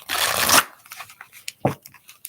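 A tarot card deck is shuffled, opening with a loud riffling burst and followed by softer scattered taps and a final quick flutter of cards.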